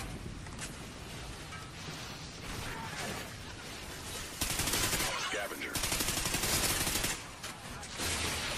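Dense, continuous gunfire from a Call of Duty Ghosts Blitz match on the Free Fall map, a steady wash of shots and noisy battle sound that grows louder partway through, with no clear speech.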